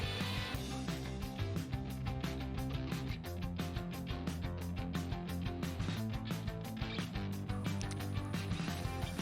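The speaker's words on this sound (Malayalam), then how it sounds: "നന്നായിട്ടൊരു സ്റ്റിഫായിട്ടുള്ള പീക്ക് കിട്ടുവോളം നമ്മളിതൊന്ന് നന്നായിട്ട് ബീറ്റ് ചെയ്തെടുക്കാം." Whipping cream beaten to stiff peaks with an electric mixer for a tres leches milk cake, a continuous close whirring motor hum with rapid rhythmic clicking and churning throughout, steady and without talk.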